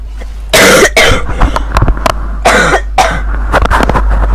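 Several loud, close coughs in quick bursts, separated by short pauses and a low steady hum underneath.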